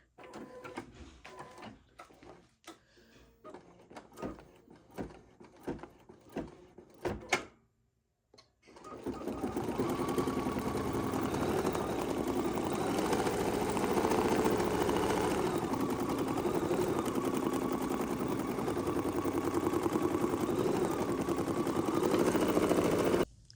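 A sewing machine stitches through a mixed media collage with a gnome figure. Several short bursts of stitching come first, then a brief pause, then a long, steady, loud run of whirring stitching until the end.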